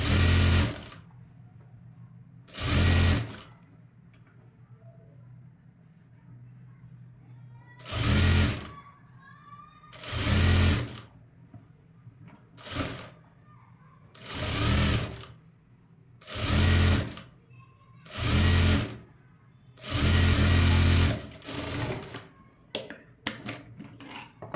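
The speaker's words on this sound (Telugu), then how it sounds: "ఇలా పెట్టేసి పైపింగ్ అనేది స్టిచ్ చేసుకుంటూ వెళ్ళిపోవాలి" Sewing machine stitching piping onto a cutwork designer blouse, running in about nine separate bursts of a second or two each, loud and close, with quiet pauses between runs and no talking.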